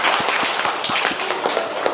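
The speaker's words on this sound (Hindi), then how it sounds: "वाह वाह, ताली बजाओ।" Children clapping in a village government school classroom in Jharkhand, a quick ragged run of about a dozen close hand claps in uneven rhythm, alone without talk.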